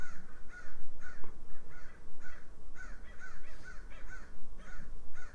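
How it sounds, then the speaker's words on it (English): Crows caw repeatedly in a steady, rhythmic series of harsh calls, fairly close, over a low outdoor rumble. "Those are the crows."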